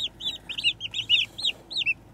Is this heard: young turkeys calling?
yes